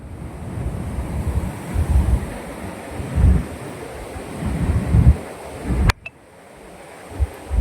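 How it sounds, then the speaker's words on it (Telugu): Water surges through an open gate of the Somasila dam on the Penna river, a steady loud rushing roar with wind buffeting the microphone that cuts off abruptly near the end. "ఇక్కడ చూడండి అసలు దూసుకొని పోతున్నాయి నీళ్ళు"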